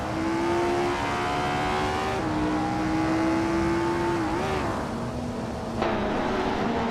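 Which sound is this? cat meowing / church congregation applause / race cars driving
race cars driving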